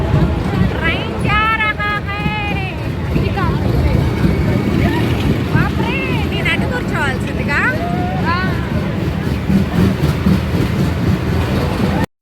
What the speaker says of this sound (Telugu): మేము ట్రైన్ రైడ్ అయితే ఎంజాయ్ చేస్తున్నాం